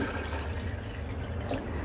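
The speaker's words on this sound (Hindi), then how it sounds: "टमाटर का पानी खुश्क करने के बाद इसमें मैं डाल दूंगी 9 कप पानी।" Water pours into a cooking pot for chicken pulao, a soft, continuous splashing and trickling heard close up for a brief moment, with no talking.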